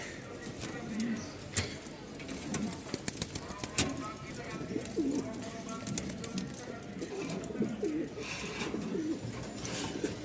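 Pigeons of various mutations coo repeatedly nearby at a pigeon farm in soft, throaty calls while a person talks over them.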